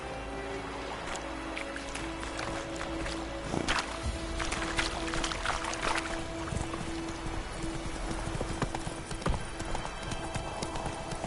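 Roach the horse galloping in The Witcher 3, steady rapid hoofbeats on a dirt path under a constant ambient game soundscape, with occasional harness jingle and rustling.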